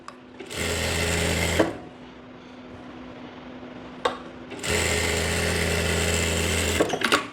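A sewing machine stitching a seam on a ladies' pant, running in two loud, steady bursts of about a second and two seconds, separated by a quiet pause with a faint click.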